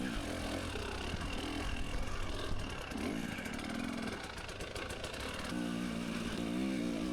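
A dirt bike engine growls and revs through a Tough Like RORR qualifier race, its pitch rising and falling as the clutch is slipped, loud and close with a rough, continuous roar.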